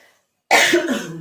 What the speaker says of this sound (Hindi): बात किए जा रही हो ना तो खांसी आ रही है।